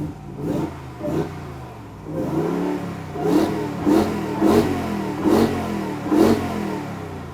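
A RAM 1500 TRX Final Edition pickup with the supercharged Hellcat V8 fires up and revs, a deep throaty engine swelling in a series of repeated blips, loud and close with no talking.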